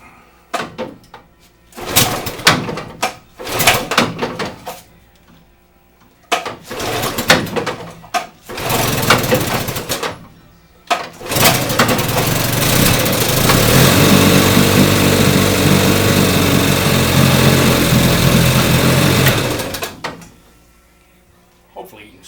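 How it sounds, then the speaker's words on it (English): A boat outboard engine with a man-overboard kill switch cranks in several short bursts, then catches and runs loudly for about eight seconds before cutting off abruptly into quiet. "So I'm gonna start this engine and kill it real quick"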